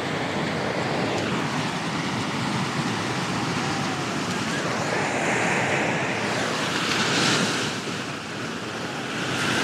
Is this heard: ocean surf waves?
yes